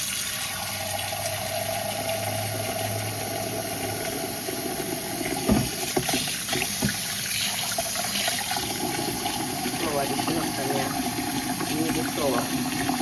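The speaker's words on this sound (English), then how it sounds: "And then we're going to run cold water on it." Tap water runs steadily with a broad rushing hiss, joined midway by clattering and faint background noise; no one speaks.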